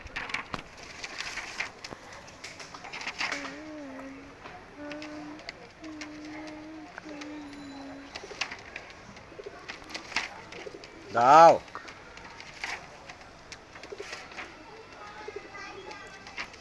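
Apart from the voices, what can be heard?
pigeons cooing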